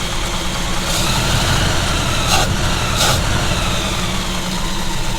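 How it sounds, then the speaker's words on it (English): A cold 1947 Cadillac Series 62 fitted with a 350 modular V8 idles steadily up close with its choke not fully open, a continuous low rumble with a brief throttle blip, and no voices. "if I goose the throttle, the idle should drop down and that choke should flip open"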